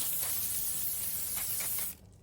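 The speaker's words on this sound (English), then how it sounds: "Cheapest one is the cheapest hairspray you can find" Cheap hairspray hisses from an aerosol can in one steady, close burst, sealing chalk pastel on paper, before cutting off abruptly near the end.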